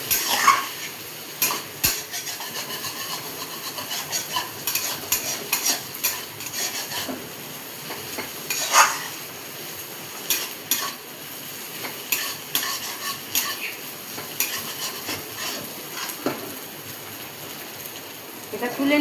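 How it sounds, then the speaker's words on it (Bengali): Potatoes stirred with an onion, ginger and garlic mixture, salt and sugar in a frying pan, a steady sizzle broken by repeated scraping and clinking of a spatula against the pan, close and continuous. "তো মিশ্রণটাকে আলুর সঙ্গে ভালো করে মিশিয়ে নেব"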